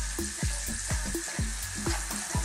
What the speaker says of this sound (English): We're simply going to gently cook these onions for about 2 minutes only.